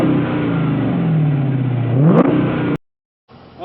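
A 2012 Dodge Challenger SRT8 392 with a Hemi V8 and tuned exhaust revs loud and close, its engine note climbing sharply to a barking peak, then cutting off abruptly; after a short silence the engine rumbles back in.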